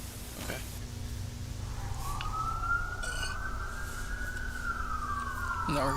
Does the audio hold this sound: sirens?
yes